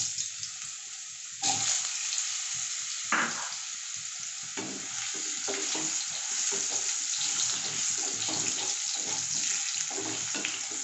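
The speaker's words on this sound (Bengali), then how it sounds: "এর মধ্যে আমি আলুটাকে ছেড়ে দিচ্ছি।" Potato pieces dropped into hot oil left in a pan for a rohu or catla fish curry, bursting into a loud sizzle that keeps crackling and hissing steadily, with stirring noises throughout.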